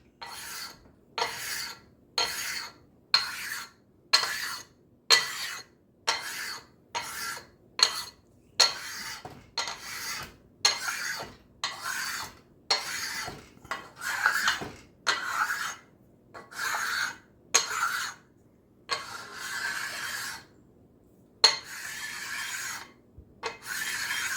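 Hand honing a Chevy L48 cylinder head to flatness, with rhythmic back-and-forth rasping strokes of abrasive on metal repeating steadily about once a second, close and alone.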